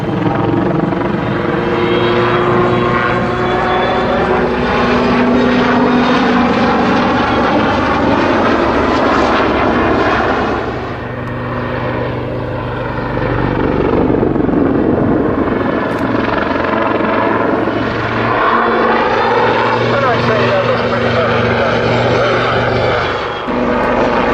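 A military jet engine roars loud and steady through an aerobatic climb, loop over the top and dive back down, the pitch and intensity shifting with the manoeuvre and easing briefly midway before surging again.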